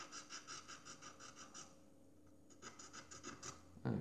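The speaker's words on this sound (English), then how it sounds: "with the cotton bud, just those white areas, give them a good scrub" Cotton bud scrubbing white areas on a 1/200 scale model of the Bedford Whaler, a faint rhythmic scratching in quick regular strokes that pauses briefly, then resumes, ending in a louder bump.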